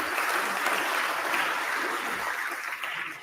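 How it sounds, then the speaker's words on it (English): Applause in a state legislative chamber for guests, a fairly soft, even wash of clapping from a room full of people that holds steady and eases slightly toward the end. "Again, more applause."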